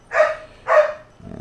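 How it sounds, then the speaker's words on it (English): A dog gives two sharp, close barks in quick succession, loud and clear, followed by a brief low rustle. "There's the dog again."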